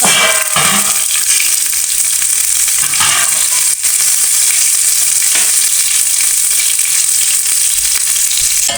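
A roti pizza frying in a little oil in a pan, giving a loud, continuous sizzle close by with occasional soft scrapes of stirring.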